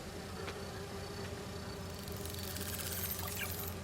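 Buzzing from bee wolf insect enemies in Marvel's Spider-Man 2: a continuous droning hum, with a brighter fizzing texture joining in halfway through.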